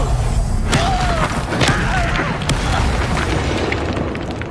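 Confringo spell explosions in the video game Hogwarts Legacy, booming blasts and bursts layered with game effects and whooshes, loud and dense through the whole stretch.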